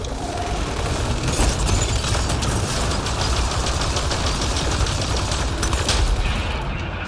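Sustained automatic gunfire from Mass Effect Andromeda, a dense, loud, continuous rattle of rapid shots with booming impacts layered throughout, no voices present.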